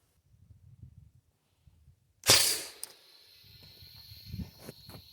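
A homemade grappling hook air cannon with a larger air tank fires outdoors as one sharp, loud pneumatic blast and a short hiss, then quiet rustling and handling noises.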